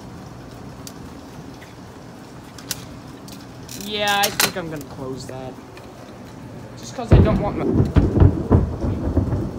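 Thunder rolls through an intense thunderstorm with rain, first as a rumbling build and then as a loud close crash near the end, while someone talks nearby and something rattles.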